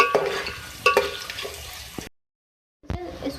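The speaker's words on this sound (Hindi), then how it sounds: "इसको डालेंगे, इसको 2 मिनट फ्राई करें इसके साथ।" Cloves and black peppercorns frying in a pan for a chicken do piyaza stew, with crackling sizzles and a couple of stirring clinks, a brief drop to silence, then sizzling resumes.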